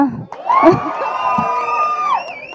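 At the audio launch event for the film Prathikshanam, the crowd lets out a long, loud piercing whistle amid shouts and cheers close by. Any clapping is hard to make out beneath the whistle and yells.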